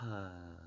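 A narrator voices a bear cub named Lulu giving a big yawn, a single drawn-out breathy vocal sigh that fades softly.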